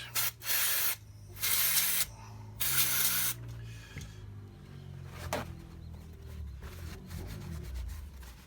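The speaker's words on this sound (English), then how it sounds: "So we'll give it a clean up with some cleaner, get rid of that stuff." Spray cleaner hisses in three loud bursts onto disassembled parts of an Eibar shotgun, followed by close rubbing and wiping sounds as the parts are cleaned.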